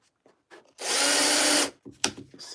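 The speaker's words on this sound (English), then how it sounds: "My 3mm drill." A 3mm drill bit spins up and bores for about a second, a loud steady buzzing whir that stops abruptly, with faint clicks and knocks before and after.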